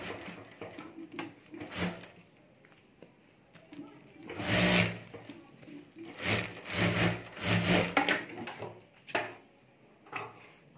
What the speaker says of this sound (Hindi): तो यहाँ ऊपर में चारों तरफ सिलाई कर देता हूँ।